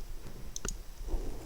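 A computer mouse clicks once on a link in a web map, giving a short, sharp double tick up close against faint room hiss.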